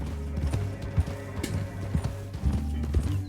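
Rhythmic hoofbeats of a galloping horse in the video game Red Dead Redemption II, steady and fairly close, with a few louder thumps along the way.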